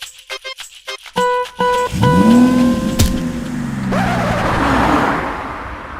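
A car that had been pushed by hand rolls off and starts moving, its engine sound rising into a loud, steady whine and drone, close and without speech.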